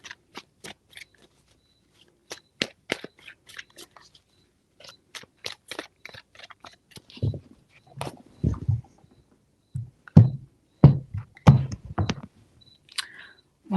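A deck of tarot cards being shuffled, crisp riffling snaps and flutters in several separate bursts, with near silence between them.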